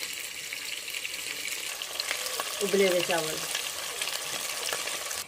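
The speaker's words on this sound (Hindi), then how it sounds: "अभी ये मैं खट्टे बैंगन बना रही हूँ" Sour eggplant sizzling as it fries and gets stirred in a home kitchen pan, a steady close crackle with a brief louder scrape midway; someone speaks briefly.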